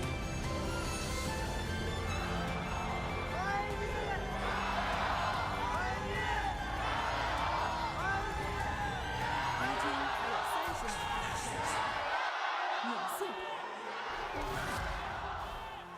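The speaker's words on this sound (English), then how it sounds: "Valiant efforts from both cheering squads there." A large indoor esports arena crowd at a League of Legends playoff match roars and cheers steadily, a dense wash of voices and whoops with a commentator talking over it, briefly dipping near the end.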